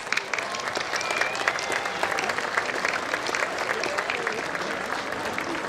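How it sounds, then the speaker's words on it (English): A commencement crowd applauds retiring faculty with sustained, even clapping from many hands, a broad continuous patter heard from a distance in a large venue. "Let's give them a round of applause."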